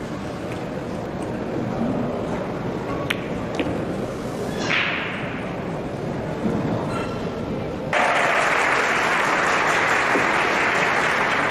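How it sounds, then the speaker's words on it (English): A crowd at a World Pool Championship 2023 match cheers and applauds from a distance under steady room noise, with the applause swelling louder and denser in the final few seconds. "Now we've just heard a cheer."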